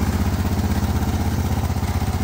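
A 24-volt gas generator with a downturned exhaust pipe runs loud and close, a steady throbbing engine drone with rapid, even pulsing and a light mechanical clatter throughout.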